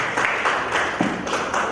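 Loud, close applause from an audience at a World Tourism Day event, continuous dense clapping with no break across the short stretch.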